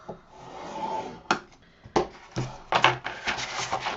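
Scoring paper for a craft folio: a few short scraping, rubbing strokes of a scoring tool along paper, close and moderately loud, separated by brief pauses, with no talking.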